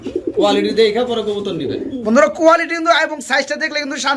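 Lahori fancy pigeons coo in low, throaty rolling phrases close by, mixed with someone talking over much of the stretch.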